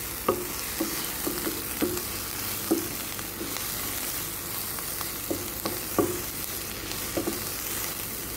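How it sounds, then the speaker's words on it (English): Onions sizzling and frying in a pan while being cooked for a Persian chicken dish, a steady close hiss with periodic clacks of a spoon stirring, no talking. "then we're going to add our onions we will make our onion French loaf."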